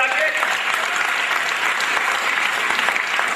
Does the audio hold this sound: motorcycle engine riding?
no